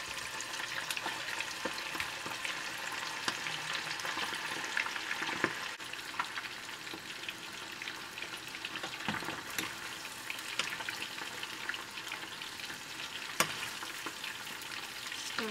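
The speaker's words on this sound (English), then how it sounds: "We're gonna sear them, so you're just gonna create a little crust on the outside." Meatballs searing in a pan give a steady, dense sizzle throughout, with a few louder pops and spits now and then and a faint clink of a utensil; no one speaks.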